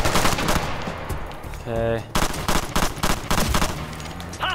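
Rapid bursts of automatic gunfire ring out in the shooter game Ghost Recon Future Soldier, loud and near, with dense repeated cracks, a brief tonal electronic beep in the middle, and someone speaking briefly.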